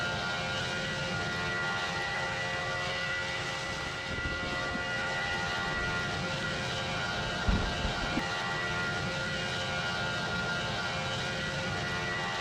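A passenger airplane climbs toward cruising altitude, its engines producing a steady, broadband roar that fills the cabin without pause, with a faint clunk or two partway through.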